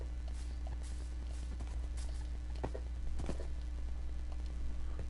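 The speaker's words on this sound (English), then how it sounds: "And for some reason there's a horse." Horse hooves clip-clopping in a video game, a quiet, steady run of soft hoof taps over a constant low hum, with no talking over them.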